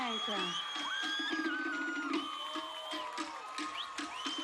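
An audience cheers, whoops and shrills for a contestant in an evening gown at the Miss Tahiti 2008 pageant, a lively crowd roar running steadily with a voice speaking through it.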